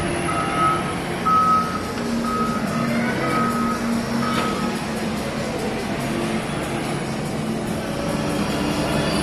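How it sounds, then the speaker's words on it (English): Caterpillar medium wheel loaders roll into an arena infield, a steady heavy diesel engine drone with intermittent reversing beeps sounding over the rumble. "we have some medium wheel loaders coming in to the infield"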